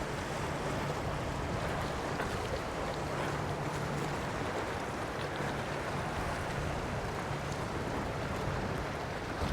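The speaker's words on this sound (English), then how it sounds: "I love the sound of the water." Water lapping and washing against the rocks at the site of an old, long-gone pier with rotted wood along the shore, a steady broadband wash with wind noise, continuous and fairly close, with no talking.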